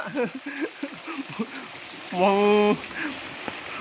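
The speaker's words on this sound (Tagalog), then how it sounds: "Ang lakas ng ulan, eh." Heavy rain pours down in a dense, steady hiss, with a voice speaking briefly over it.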